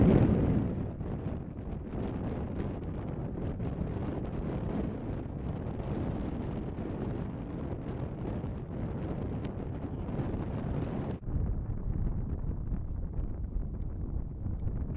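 Strong wind gusting outdoors during frisbee throwing, buffeting the microphone in a loud, continuous low rumble that eases slightly toward the end.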